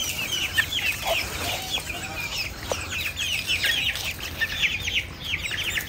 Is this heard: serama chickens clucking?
yes